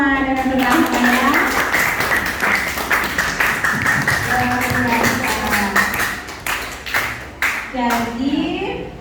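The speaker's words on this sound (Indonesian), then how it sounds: "tepuk tangan untuk kita semua dengan senang ya" Students in an Indonesian-language classroom clap in sharp, uneven bursts of hand strikes, close and fairly loud, mixed with a teacher's voice and children talking through most of the stretch.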